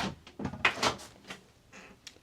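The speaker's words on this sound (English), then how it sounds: "And the door opens." An Airstream travel trailer door opens with a few soft, close clicks and thumps from the latch and handle, followed by a quieter rustle as it swings.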